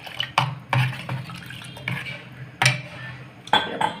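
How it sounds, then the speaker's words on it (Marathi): Water poured from a vessel into a cooking pot while preparing a Maharashtrian chana dal chilli dish, with a few sharp clinks of metal utensils and splashes. No one speaks. "तर आता आपण याच्यामध्ये थोडंसं पाणी घालूया"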